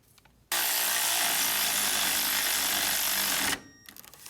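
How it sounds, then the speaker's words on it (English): Power tool tightening the lower alternator bolt, below the pulley, on a 2006 Honda Odyssey: one loud, steady whirring burst of about three seconds, close up, with quiet handling sounds before and after. "I'm gonna tighten the second one, the one below the alternator pulley"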